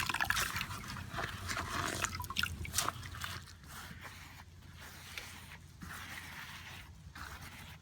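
Wet sponge wiped over the grout of an outdoor mosaic house number, giving close, soft wet rubbing and swishing with faint drips, steady for several seconds with no talking.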